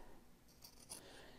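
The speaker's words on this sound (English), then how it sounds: "just carefully trimming off the head, around the head here" Scissors trimming fabric around the head of a small sewn dog softie, a couple of faint, brief snips against near silence.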